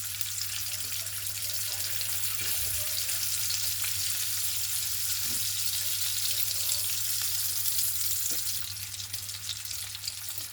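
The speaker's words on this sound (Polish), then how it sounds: "Odsmażony boczek." Bacon sizzles steadily in a frying pan, a loud continuous crackle that runs without a break alongside a low hum, ahead of fried eggs with chives.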